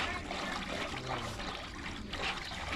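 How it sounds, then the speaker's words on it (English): Laundry being agitated by hand in a tub of soapy water at a historical village, giving a steady sloshing, trickling wash of water throughout, close and continuous, with faint talk underneath. "You would agitate all your laundry in that soapy water."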